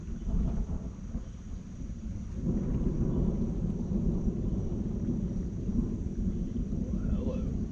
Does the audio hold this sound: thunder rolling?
yes